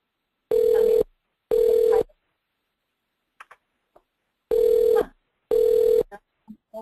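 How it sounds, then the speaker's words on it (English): A telephone rings in repeated double bursts with a loud electronic tone, pausing between pairs, with a few faint clicks in the gaps during an online meeting. "Despite the ringing, we'll proceed forward."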